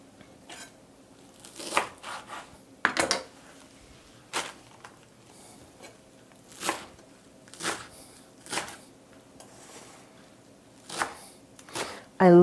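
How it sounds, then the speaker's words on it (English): A knife chopping fresh cilantro on a cutting board, with sparse, irregular crisp taps and short bursts of chopping spread out over several seconds, close by, with a quiet background. "Now I'm going to take my cilantro and just give this a good chop."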